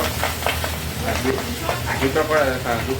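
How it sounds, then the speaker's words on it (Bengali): Marinated pabda fish slid two at a time into hot oil, sputtering and crackling with a steady, close sizzle and scattered pops throughout. "দুটো করে আমরা ছেড়ে এগুলো ভেজে নেব"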